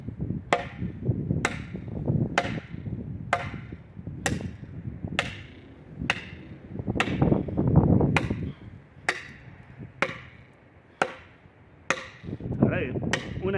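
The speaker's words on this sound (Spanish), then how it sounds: "Va, estoy hachando directamente, no estoy macheteando." A Yarara Comando machete swung like an axe chops into wood with about a dozen sharp, evenly spaced blows roughly one per second, loud and close over a low background rumble.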